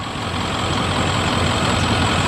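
A 1995 Ford F350 XLT crew cab with a 7.3 liter Power Stroke turbo diesel runs at a steady idle, giving a loud, continuous low rumble and clatter close by, with no talk over it.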